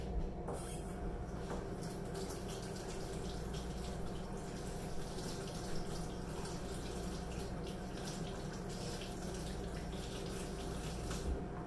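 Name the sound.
water running from a tap while rinsing hands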